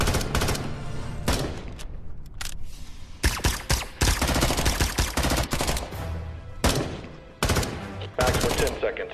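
Heavy gunfire in an action-movie firefight against zombies, with repeated loud automatic bursts and single shots in close, rapid clusters separated by short pauses, and voices underneath.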